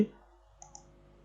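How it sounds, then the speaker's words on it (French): A single faint mouse click lands on an OK button in structural engineering software, with a tiny second tick right after in otherwise quiet surroundings. "On clique sur OK."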